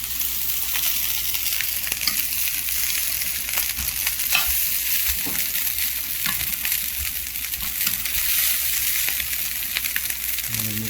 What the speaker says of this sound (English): It should crisp up the rice, and then as you rotate it, you can see some of it's browning already.